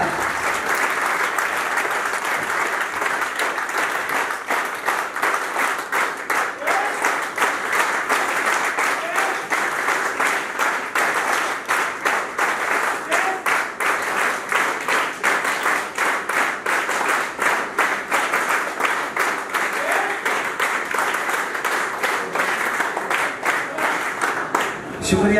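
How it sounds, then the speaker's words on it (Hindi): An audience at an oath-taking ceremony of a welfare organization applauds for about 25 seconds. The clapping is steady, dense and sustained, with faint voices underneath. "आपकी भरपूर तालियों में मियां मुमताज अली साहब।"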